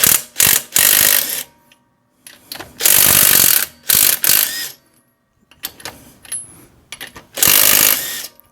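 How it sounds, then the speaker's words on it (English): A DeWalt impact gun fitted with a 21mm socket loosens bolts on a second-generation Toyota Prius rear shock, sounding in loud, close hammering bursts of about a second each, separated by short pauses, with no talking. "I have my handy DeWalt impact gun here with a 21mm"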